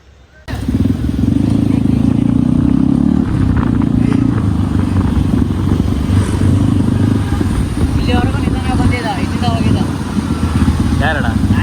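A motorcycle carries riders along a road, its engine droning loud and steady and close by from start to end under a low rumble, while people's voices come through faintly in the background.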